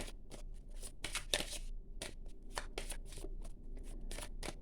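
Tarot cards are shuffled close up, a quick series of crisp riffling and flicking bursts at an uneven rhythm, quiet and with no talking.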